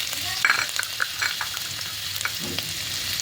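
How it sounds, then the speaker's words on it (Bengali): Whole cumin and chopped ginger frying in hot mustard oil, a close, steady crackling sizzle with light popping spits, no voices. "তেলের উপর সরষের তেলের উপর গোটা জিরে দিয়ে দিয়েছি।"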